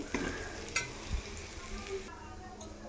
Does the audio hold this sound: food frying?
yes